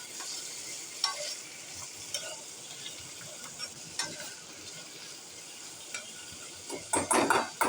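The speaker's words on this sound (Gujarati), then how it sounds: "મરચું, લીમડો અને એને ફરીથી આપણે થોડું હલાવી લઈશું." Chillies and curry leaves stirred in a pan for rava upma, a steady low sizzle with soft scraping strokes throughout and a louder burst of clatter near the end, with no voices.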